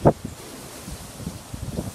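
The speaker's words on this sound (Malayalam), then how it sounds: "ഭയങ്കര കാറ്റുമാണ്" Strong gusty outdoor wind during snowfall, buffeting and rustling, with a sharp rush at the start and irregular low gusts throughout, moderately loud.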